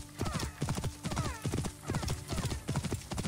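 Rapid, rhythmic hoofbeats of a galloping horse in Assassin's Creed Origins, loud and close, repeating steadily throughout.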